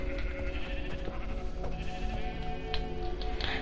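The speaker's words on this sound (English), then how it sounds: "That's a sheep." Video game sheep bleat continuously over a steady low hum, the wavering calls overlapping with no one talking.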